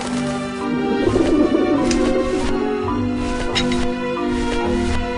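Several pigeons coo in a PS4 game, their soft rolling calls rising and repeating against a steady background patter and a faint low hum, with no speech.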